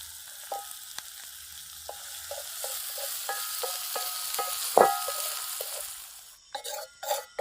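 Beef fry sizzling steadily in a pan while being stirred, with a series of light metallic taps and scrapes of the spoon, one louder clank near the end, then a few sharper knocks; no talking.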